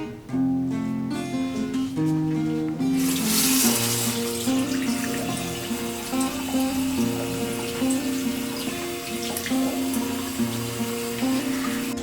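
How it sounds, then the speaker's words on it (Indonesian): Tap water runs steadily while hands are washed, a continuous splashing hiss rising from about three seconds in and lasting to the end, mixed under a prominent melodic music track. "Mencuci tangan dengan air mengalir sangatlah sederhana."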